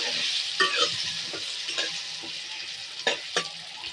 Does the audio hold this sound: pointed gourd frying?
yes